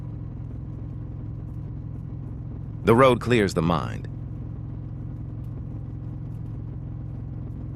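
On a night ride, a motorcycle engine holds a constant, even low drone beneath a short spoken line in the middle.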